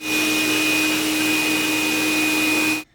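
A Dreame Bot W10 self-cleaning robot vacuum and mop runs at its highest power setting, giving a loud, steady whine with a constant high tone over broadband airflow noise, close by, until it cuts off abruptly at the end.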